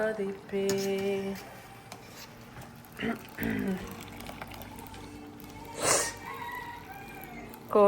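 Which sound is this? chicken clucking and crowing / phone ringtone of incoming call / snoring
chicken clucking and crowing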